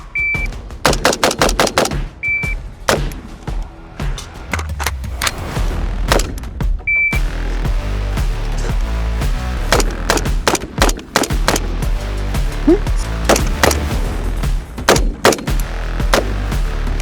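A SCAR-H rifle chambered in 7.62 NATO fires loud, close shots, first in spaced strings and then sustained rapid bursts, with a few sharp electronic beeps early on.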